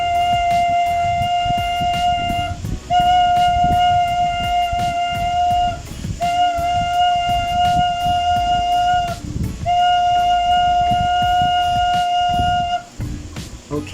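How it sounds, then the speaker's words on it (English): A flute plays the note sol, G, as a held whole note four times, each clear pure tone lasting about four counts with short gaps between, over a rumbling, busy background. "let's play the note sol or G on the flute"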